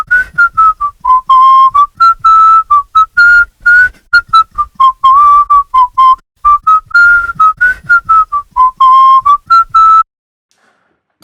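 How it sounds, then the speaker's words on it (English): A person whistles a melody, close and loud, in short clipped phrases with gaps between notes, stopping abruptly near the end and leaving silence. "so that's me whistling"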